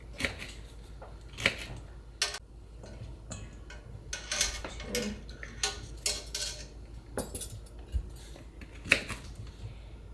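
Metal measuring spoons being dried off after washing, before measuring pickling salt for garden jalapenos: light clinking and rattling taps of metal against metal in scattered bursts, close and clear, with no talk.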